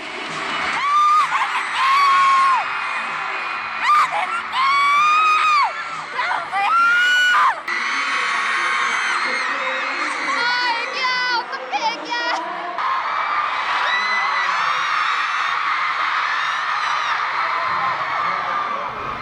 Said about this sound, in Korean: 여기 아주 재미있는 외침이 들려옵니다